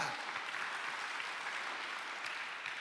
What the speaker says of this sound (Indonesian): Tepuk tangan bagi Allah kita.